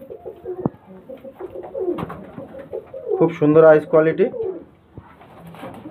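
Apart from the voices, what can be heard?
pigeons cooing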